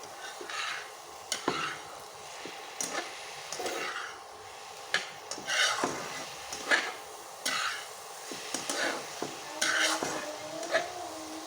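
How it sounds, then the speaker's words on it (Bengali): Radish curry being stirred as it cooks in a pan, repeated scraping and clattering strokes of a utensil over a moderate sizzle, close and irregular, with no talking. "ভালো করে নেড়ে এখন রান্না করে নেব"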